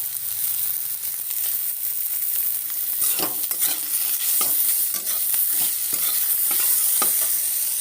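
Steady sizzling of mixed vegetables frying in a pan after turmeric and salt are added, with intermittent scraping and clatter of a spoon stirring, close and continuous.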